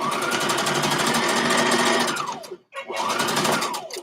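A sewing machine stitching fabric in a rapid, even buzz for about two seconds, stopping briefly, then running again in a second short burst, close and clear.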